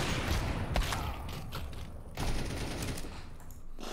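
Rapid gunfire from the video game Counter-Strike, dense bursts of automatic shots and thuds, loud and continuous with a few sharper cracks, no talking.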